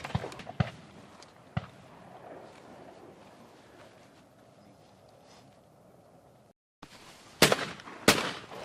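Shotgun shots fired at Spanish partridges on a driven hunt in Spain, a few sharp blasts at the start and two louder reports near the end, with quiet outdoor ambience between.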